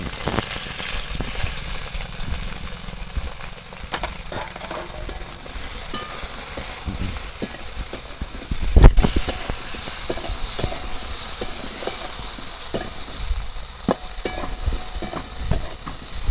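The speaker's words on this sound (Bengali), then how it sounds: "এবার ঢাকা দিয়ে দিয়ে একটু ভালো করে ভাজবো।" Cauliflower florets fry with salt and turmeric powder in a pan, giving a steady close sizzle with scattered stirring scrapes and one louder clatter partway through.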